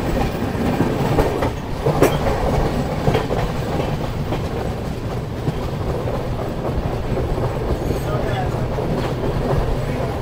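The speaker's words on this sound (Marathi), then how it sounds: "आपली ट्रेन बघा, इंजिन सकट जनरल डबे बाहेर घेऊन गेली." Mandovi Express, the 10103 Thane–Kudal service on Konkan Railway, running on rails near Roha, a steady close rumble of wagons with rhythmic clickety-clack throughout and faint voices in the background.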